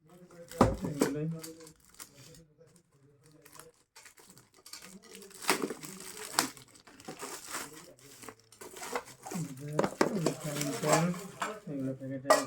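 Packaged spoons and a kadai frying pan are unwrapped and handled, with crinkling plastic, rustling and light metallic clinks coming in bursts close by between stretches of a person talking.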